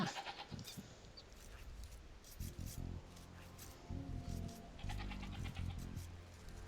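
Sheep bleat a few times at a moderate distance, short wavering calls over a steady background, with a voice talking in French at times, in the video game Age of Empires II DE.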